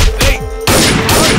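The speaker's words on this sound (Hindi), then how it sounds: "वो गोली चला रहा" Loud bursts of gunfire in a Hindi-dubbed action film scene, two or three sharp heavy blasts crashing in quick succession over about a second, dominating the mix.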